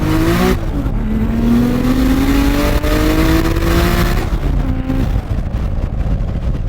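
A 2JZ-powered Toyota Chaser super sedan accelerates hard through a full pull, its engine note rising steadily and loud and close, with a shift break near the start and another near the end, and no talking.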